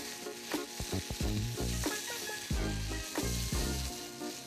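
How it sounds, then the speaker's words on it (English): Lobster bodies toast and sizzle in a hot pan, giving a steady frying hiss broken by repeated clattering knocks and scrapes as the pieces get stirred, with no talking. "Just want to get some good color on this lobster, toast the bodies a little bit, extract all that flavor."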